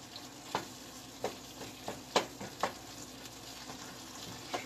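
Pork rinds, eggs and potatoes fry in a pan Mexican style, a soft steady sizzle punctuated by several distinct scrapes of stirring.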